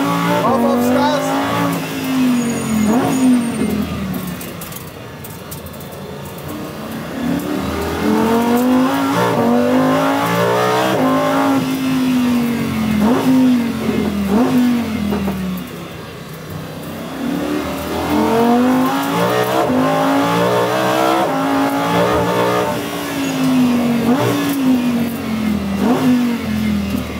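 ABT XGT race car accelerating hard on a tight track, its loud drivetrain whine rising again and again through repeated surges, with brief easing between them and some tire noise. Someone talks over parts of it.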